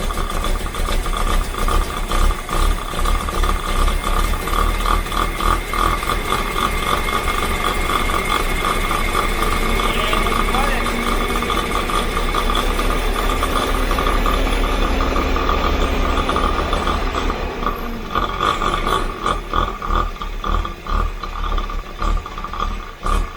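A Jaguar XJC engine runs and idles after a rebuild, with a steady, loud, slightly uneven rumble that holds for over twenty seconds and settles somewhat toward the end.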